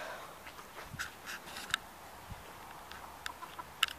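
Hens cluck softly in short, scattered bursts, with a few sharper calls, fairly quiet with no talking.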